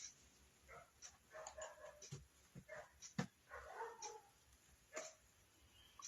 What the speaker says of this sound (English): what would our video be if we didn't have the neighbor's dogs?